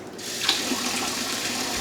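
Tap water runs steadily into a cooking pot being filled for pasta, a continuous hiss and splash with a brief gush at the start.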